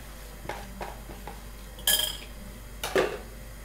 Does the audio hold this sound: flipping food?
yes